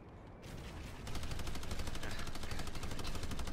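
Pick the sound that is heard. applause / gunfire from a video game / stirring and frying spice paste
gunfire from a video game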